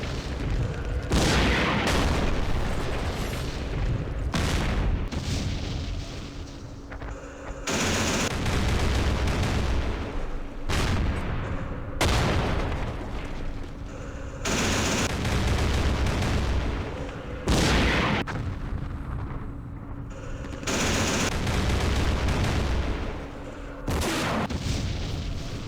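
Recoilless rifles firing in the Campaign Series Middle East wargame: a run of heavy, booming blasts in repeated bursts, each a loud broadband crack with a rumbling decay, spaced a few seconds apart over continuous battle noise.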